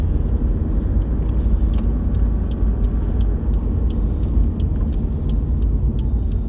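A truck engine rumbles steadily on a Welsh farm as the vehicle moves off, a loud, continuous low drone with faint ticking on top and no talking.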